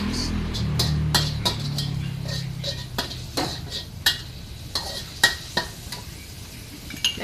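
Chili peppers are stir-fried in a pan with a low sizzle, while a spatula scrapes and clanks against the metal in a run of sharp, uneven knocks.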